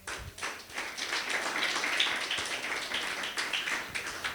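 A church congregation claps together in a quick, busy patter of many hands, fairly close and steady for a few seconds with no voices over it.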